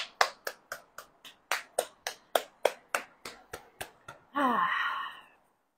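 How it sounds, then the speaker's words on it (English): About fourteen sharp hand claps in a brisk, even rhythm, fairly close, followed by a long exhaled breath. "And let's clap our hands."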